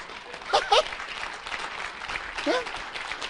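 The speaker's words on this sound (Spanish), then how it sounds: "Eso merece un aplauso" Congregation applauding during a sermon at a church service, a steady wash of clapping across the whole stretch with a couple of louder bursts and a voice calling out over it.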